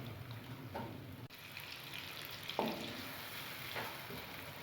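Green chillies frying in a pan on a medium flame for masala kabab, giving a continuous soft sizzle with a few faint stirring scrapes, close and unbroken by talk.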